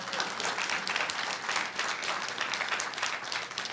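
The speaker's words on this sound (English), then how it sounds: "let's get a round of applause. I clap." An audience at a school board reception applauds in a dense, even wash of clapping that holds steady and fairly soft, with no voices over it.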